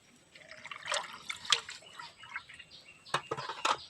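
Water splashes and trickles in irregular drips and pours as freshly cut boal fish are rinsed, close and fairly soft.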